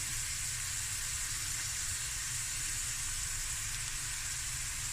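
Prawns fry in a hot pan with fish sauce and Tabasco, giving a steady, bright, hissing sizzle that stays even and continuous throughout, close and moderately loud.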